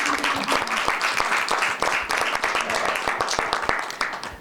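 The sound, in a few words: applause at city hall meeting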